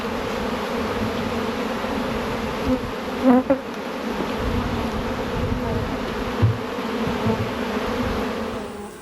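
A continuous buzzing swarm of honeybees trying to rob stacked honey supers in a honey house, many insects droning together close by, with a few louder passes near the listener.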